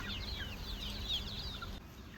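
Native country chickens on a farm cluck softly through a steady outdoor background, with a few higher chirps near and far over about two seconds.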